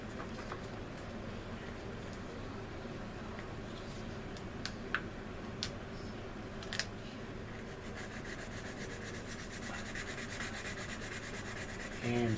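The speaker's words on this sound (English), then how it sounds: "And sand that seam out using the emery board sanding stick" Steady rasping strokes of an emery board sanding stick work a seam on a plastic Anigrand C-124 Globemaster model kit, close and quiet, with a few small ticks and taps and faster rubbing near the end, no speech.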